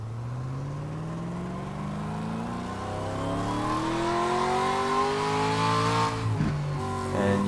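Race car engine in a VR racing sim, revving steadily upward through the gears with rising pitch and a brief dip as it shifts, loud and continuous with no voices.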